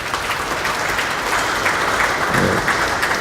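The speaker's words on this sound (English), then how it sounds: "he needs a special round of applause" Steady, dense applause from an audience at a swearing-in ceremony for new commissioners, loud and continuous throughout, with no speech over it.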